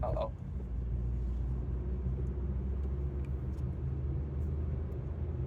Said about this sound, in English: So we are driving.